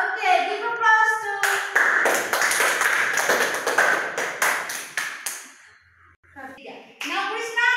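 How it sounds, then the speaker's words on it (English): Classroom applause during an English lesson, a burst of brisk hand clapping from a small group of students lasting a few seconds, with a teacher and children talking before and after. "give applause to"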